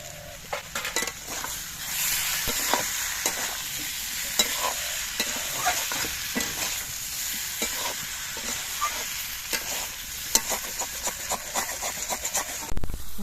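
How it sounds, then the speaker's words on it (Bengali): Boiled giant taro (mankochu) sautéed in a pan with a continuous frying sizzle and frequent scraping, clinking stirs of a utensil against the pan at close range, with no speech. "মান কচুগুলো দিয়েও আমি চার পাঁচ মিনিটের মতো কষিয়ে নিয়েছি"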